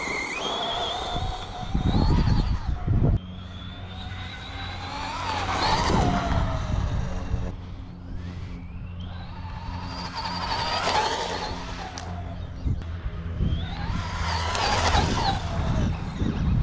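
Two electric RC cars, a Traxxas Bandit VXL and an Arrma Typhon 3S, run on a street with high whining motors that rise and fall in repeated passes, some tire scuffs, fairly loud throughout.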